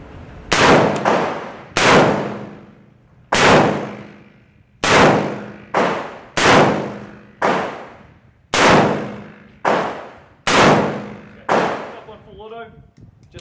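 A Colt M16 rifle with a 20-inch barrel fires eight sharp, loud single shots at an uneven pace, about one to one and a half seconds apart. Each crack rings and decays briefly before the next.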